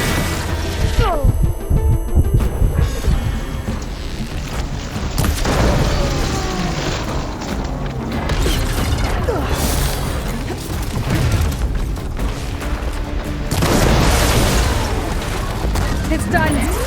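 A plasma explosion in the video game Horizon Forbidden West: booming blasts and rumbling bursts layered with battle effects, loud and dense, with character voices speaking over parts of it.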